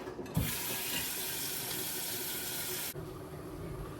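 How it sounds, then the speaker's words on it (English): Tap water gushes into a pot for cooking pasta, a steady close hiss and splash that starts abruptly, runs for a few seconds, then cuts off, leaving quieter room noise. "time to fill up the pot of water for pasta"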